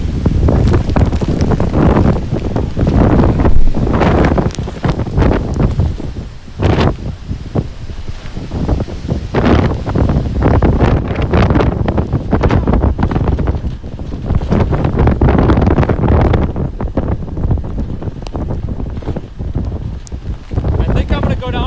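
Hurricane Idalia wind buffets the microphone in heavy, continuous roaring gusts, with rustling and flapping mixed in, loud and close throughout.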